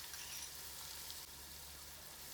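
Ginger garlic paste with green chilli paste, mint and coriander fries among browned onions for a mutton pulao, giving a steady, soft, continuous sizzle throughout with no voices.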